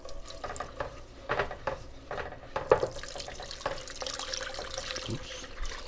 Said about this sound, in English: Now around the 3-minute mark, I'm pouring in half of my milk cream mixture.